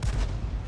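A GW Panther self-propelled artillery gun fires in World of Tanks, one deep booming shot with low rumble that rolls on for under a second, loud and close.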